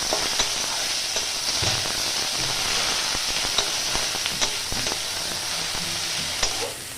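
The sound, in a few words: onion frying in oil in a pan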